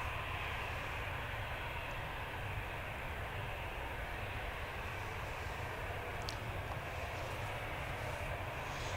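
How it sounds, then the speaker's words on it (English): A KLM Boeing 737-800 airliner at Manchester Airport rumbles with a steady, distant jet engine roar, a low continuous drone heard alone from the outside, no voices. "Behind it we've got a KLM 737-800, registration PHBXE, going to Amsterdam."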